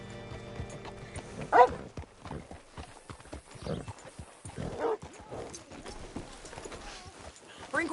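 Horse hooves clip-clop at a steady walking pace in the video game Red Dead Redemption 2, soft repeated thuds beneath characters talking.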